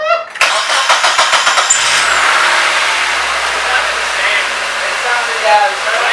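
A Mazda Miata engine fresh from a spark plug and wire change cranks briefly, catches and settles into a loud, steady idle close by, with a person's voice heard over it.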